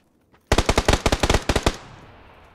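Gunfire in the video game PUBG: a loud, close burst of about a dozen rapid automatic shots, followed by a fading echo.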